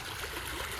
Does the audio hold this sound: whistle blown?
no